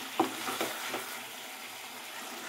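Pre-fried cauliflower stirred in a pan with potato, a faint, steady sizzle under a few soft scraping stirs early on, fairly quiet and continuous.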